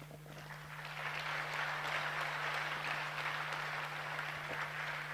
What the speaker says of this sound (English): I believe you are clapping to thank His Excellency for the free education.